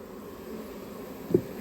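A cluster of lost honey bees gathered without a swarm hums faintly as a low, steady drone, with one brief louder buzz near the end.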